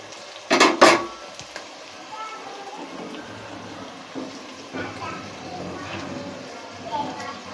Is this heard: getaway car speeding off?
no